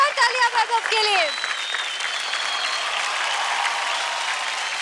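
Studio audience on a TV dance competition applauds dancer Vaibhav: a vocal phrase fades out at the start, then even, steady clapping continues at moderate loudness.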